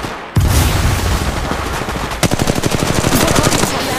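Rapid automatic gunfire from Apex Legends Mobile rattles continuously at close range, loud and dense, with a sharp shot starting the burst and a steady stream of rounds after.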